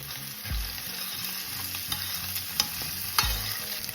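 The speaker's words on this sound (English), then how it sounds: "Low heat, you fry the onion with the chilies." Onion, green chilies, garlic and ginger frying in oil over low heat, a steady close sizzle with a couple of heavier thuds and scrapes as the mix is stirred in the pan.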